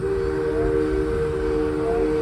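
A Six Flags Railroad train running near a station stop at an amusement park, with a steady low rumble and a sustained tonal whistle-like hum held throughout, fairly loud and continuous with no talk.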